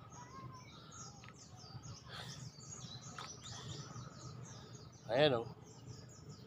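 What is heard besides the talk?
birds chirping outdoors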